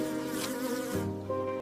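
A mosquito whines in a thin, steady, close-up buzz that shifts pitch slightly as it hovers, heard alone with no voices.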